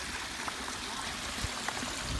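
Water flows through a newly built pondless waterfall outdoors, a steady broadband rush and trickle that stays even and fairly close throughout, with no voices.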